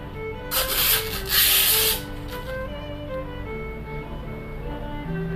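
Backing paper is peeled off the adhesive of a replacement tablet touchscreen. A loud, close tearing rasp lasts about a second and a half, then fades to a quieter background hum.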